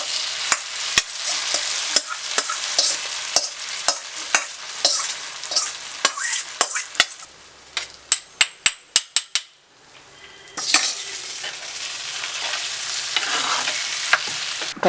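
Hot coconut oil tempering poured into cooked jackfruit for a Kerala-style erissery, sizzling sharply and then stirred with rapid, close metallic scrapes and taps against the pan before a brief pause and renewed frying sizzle.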